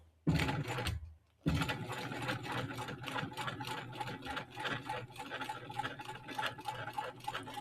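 A sewing machine stitches down the sides of a bag, a close, steady rapid mechanical clatter after a brief start and a short pause, then running continuously.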